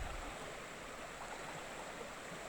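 Louro river stream flows steadily beside a bridge near Orbenlle in Porriño, a continuous soft rushing of water, fairly quiet and unbroken.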